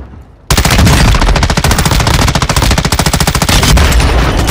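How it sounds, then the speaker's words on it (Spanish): Rapid, loud automatic gunfire from a battle royale video game bursts in after a short quiet moment and keeps hammering in a dense, continuous stream with no talking. "Dispara a todos que puedan."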